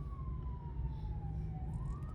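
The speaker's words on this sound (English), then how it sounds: "they got sirens after us as well" A faint, distant emergency siren wails in a slow, continuous rise and fall, alone over a low steady rumble of background noise.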